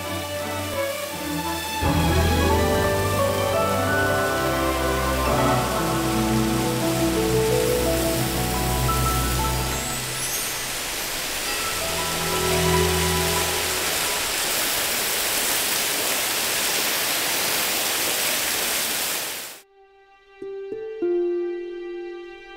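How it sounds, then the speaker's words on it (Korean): Constant rushing water of a waterfall below Wibongsan mountain, broad and loud, under layered music that cuts off abruptly near the end. "이제 폭포 소리가 발길을 재촉한다"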